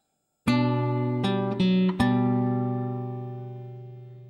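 Classical guitar playing measure 25 of Minuet in G: a few clear plucked notes in quick succession, the last one ringing out and slowly fading, close and alone.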